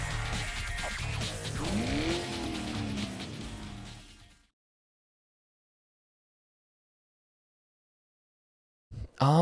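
An Opel Speedster racing in the GameCube game Need for Speed Hot Pursuit 2, with engine revving and tire squeals over about four seconds, then silence before a short burst of sound at the end.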